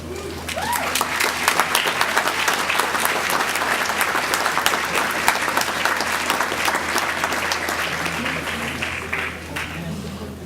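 A graduation crowd applauds the master's degree candidates, with sustained, dense clapping from a large audience at steady volume that tapers slightly near the end.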